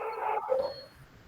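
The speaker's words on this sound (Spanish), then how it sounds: "El perrito de fondo se escucha, está protestando" A small dog in the background gives a couple of brief, whiny yips and barks, moderately faint, then goes quiet.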